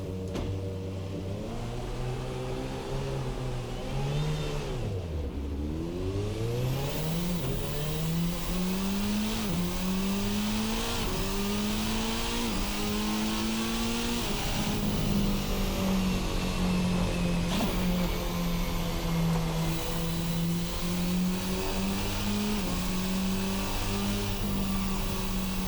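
Formula RSS Supreme open-wheel race car in a sim racing game, its engine climbing steadily through revs with brief dips at gear changes, loud and continuous with no talk over it.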